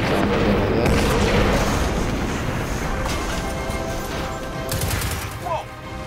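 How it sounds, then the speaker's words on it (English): A heavy explosion booms in Destiny 2: Forsaken, followed by a rolling rumble and scattered blasts and gunfire-like cracks that fade over several seconds, with voices faintly mixed in. "I'm gonna get eyes on that explosion."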